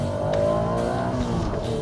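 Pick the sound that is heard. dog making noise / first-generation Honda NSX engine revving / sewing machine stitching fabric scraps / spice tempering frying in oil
first-generation Honda NSX engine revving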